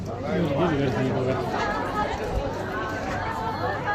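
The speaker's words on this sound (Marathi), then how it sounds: "पहा किती गर्दी आहे" Dense crowd chatter at the busy Senso-ji temple entrance in Tokyo, a steady babble of many overlapping voices close around, with footsteps and general street bustle in a crowded tourist area lined with shops.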